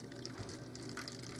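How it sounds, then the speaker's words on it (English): Coffee pours into a cup in a continuous quiet splashing gush, steady throughout with no voices. "First mess will be me pouring this coffee."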